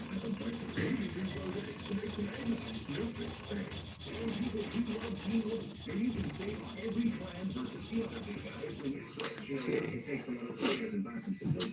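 Hand sanding a forged knife blade, a steady continuous rubbing and scraping that runs throughout, close and fairly loud, with a person talking over it.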